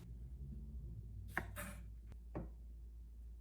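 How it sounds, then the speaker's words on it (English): A knife cutting the ends off fresh pickling cucumbers on a board, a few crisp chops and scraping slices close by, faint and separated by quiet pauses. "Take a knife and just cut off the ends of your pickles"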